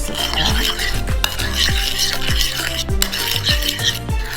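Shawarma marinade of red wine vinegar and light olive oil being mixed in a bowl, with a loud, rhythmic run of utensil clinks and knocks against the bowl over a continuous swishing, mixed with background music.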